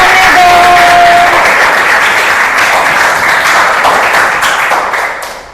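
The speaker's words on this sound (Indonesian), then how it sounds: "Kasih tepuk tangannya dong." A classroom audience claps loudly after a student presentation on computer systems, the applause steady at first and then tapering off toward the end.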